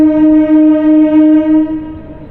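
A MEMU train between Nidadavolu and Bhimavaram sounds a loud, sustained horn, a steady tonal blast held close for about two seconds before it cuts off, leaving quieter rail noise.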